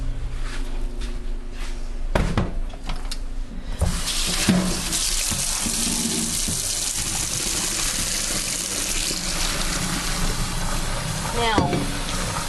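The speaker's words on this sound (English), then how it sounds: "we're going to come over here and we're going to drain them" Cooked nokedli Hungarian noodle dumplings being drained and rinsed under cold running water at a kitchen sink, a steady close gush with clattering of a pot or colander early on.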